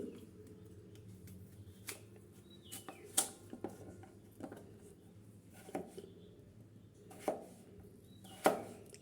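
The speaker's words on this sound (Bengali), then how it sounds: "আমগুলো এখন আমি কেটে নিচ্ছি ফালি ফালি করে" Knife slicing raw green mangoes into long strips for a mango dal, giving a string of irregular crisp cuts and taps on a board over a low steady background hum.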